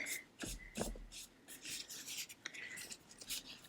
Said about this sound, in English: putting the medium on the back of this drywall tape